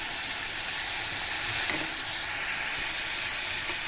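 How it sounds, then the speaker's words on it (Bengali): Dried fish (shutki) sautés in a hot pan with a steady, loud, even sizzle that stays close and unbroken throughout, with no talking. "আমার শুটকিটা কিন্তু ভালো করে কষানো হয়ে গেছে"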